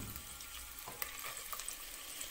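Sliced peppers with pasta frying in a pan and being stirred, a soft, steady sizzle with a few light clinks and scrapes from the stirring, quiet and close.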